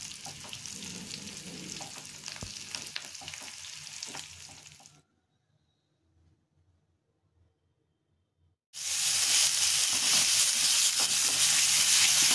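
Food frying in oil in a frying pan, a loud close sizzle with stirring for about five seconds, a few seconds of near silence, then an even louder, brighter sizzle resuming to the end.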